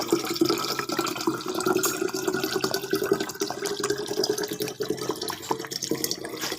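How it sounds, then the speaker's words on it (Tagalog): Water pours steadily into a tumbler for a packed school lunch, a continuous close splashing fill running the whole time without talk. "magsasarin lang tayo ng tubig"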